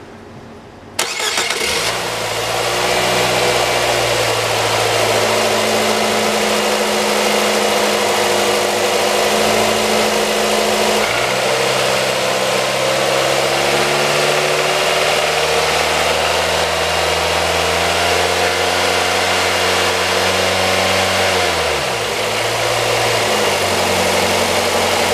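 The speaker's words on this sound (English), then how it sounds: "As you can see, this motor starts and runs excellent." A 2015 Nissan NV engine cranks briefly and catches, then settles into a loud, steady idle that hums on for over twenty seconds, with a slight shift in pitch partway through and no voices.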